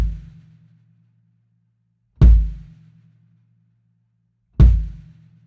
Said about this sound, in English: pull your foot back and do a heel up stroke and still get a nice wide open sound and a louder sound